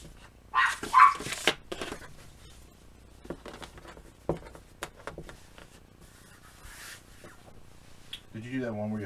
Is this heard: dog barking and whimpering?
yes